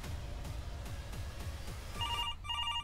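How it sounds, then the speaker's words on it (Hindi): In the horror game Fears to Fathom, a telephone rings with two short bursts of rapid electronic trilling, heard over a rhythmic low thumping background and no speech. "फ़ोन बज रहा है"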